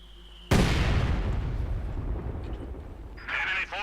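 A heavy mortar round strikes in the World War II strategy game Company of Heroes 2, landing as one loud, sudden boom that rolls into a long rumbling decay with faint battlefield noise behind it.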